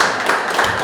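An audience at a forum on racial diversity claps in a dense, continuous burst of applause that lasts under a second.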